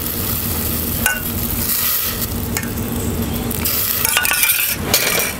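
Vegetable stock simmering with cream in a risotto pot on the stove, a steady close bubbling sizzle with a few sharp clinks and stirring scrapes scattered throughout.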